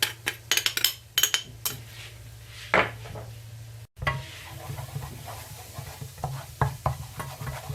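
A spoonful of flour being stirred into hot oil in a pan for a stuffed aubergine gratin, with a spoon scraping and clinking against the pan in quick bursts over a soft sizzle, close by and without talk.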